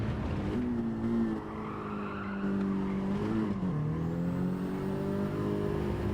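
A race car engine drones in a racing video game, the pitch dipping and rising as it brakes into a corner and powers out, with faint tire squeal under a steady loud engine note.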